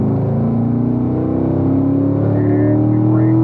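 A Corvette on the Spring Mountain race track accelerating hard in third gear, its close, loud engine note rising steadily in pitch under throttle, heard from inside the car.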